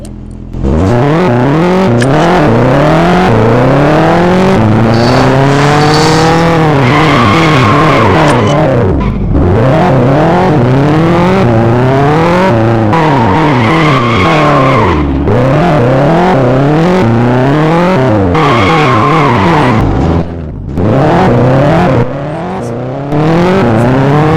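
A modified Nissan Skyline GT-R in a racing video game revs hard through repeated gear shifts, its engine note climbing and dropping again and again, loud and close, with tire squeal.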